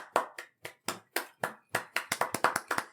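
Hand clapping, about a dozen sharp, close claps, slow and uneven at first and then quicker, with no voices.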